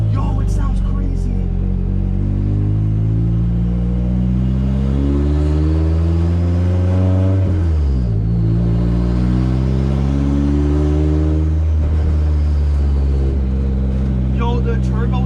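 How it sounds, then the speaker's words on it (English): Japanese SR20 drift car engine revving hard with a loud turbo, sustained close roar with harmonics rising and falling through two distinct rev sweeps, a voice faintly beneath. "Yo, the turbo is so freaking loud."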